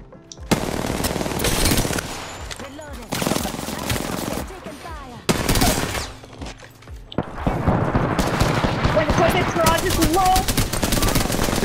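Automatic gunfire in the game Apex Legends: loud, dense bursts of rapid shots in several long stretches with brief pauses, while players talk excitedly over the shooting.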